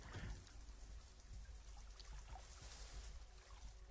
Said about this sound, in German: Dann machen wir einfach mal alle Duschen an.